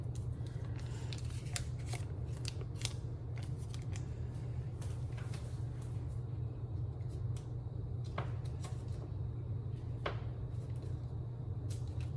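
Two tablespoons of butter being cut into small pieces with a knife in a home kitchen: quick repeated soft clicks and taps of the blade on a board over a steady low background hum.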